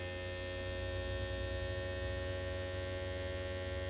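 A Foodsaver handheld vacuum sealer runs with a steady, close motor hum of constant pitch and level for the full four seconds, with no talking.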